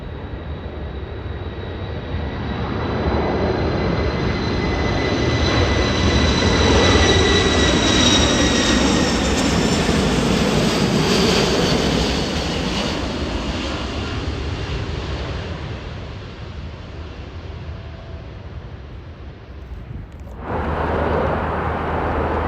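An E-4B military jet flies overhead, its broad engine roar swelling as it nears, peaking, then slowly fading, with a high whine running through it and no talk.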